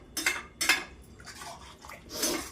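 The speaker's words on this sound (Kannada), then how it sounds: "ಮೂರು ಗ್ಲಾಸ್ ನೀರು ಹಾಕ್ಕೊಂಡು ಚೆನ್ನಾಗಿ ಮಿಕ್ಸ್ ಮಾಡಿ" Water stirred into rice in a pressure cooker for vegetable pulav: a few separate clinks and scrapes of a spoon against the metal pot, with light sloshing between them, close and fairly quiet.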